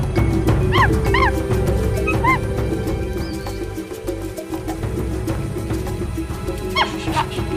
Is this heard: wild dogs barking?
yes